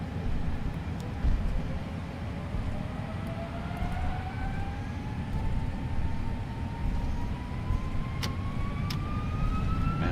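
Jet airliner engines spool up to takeoff thrust in a flight simulator, a steady broadband roar with a rising whine that climbs throughout.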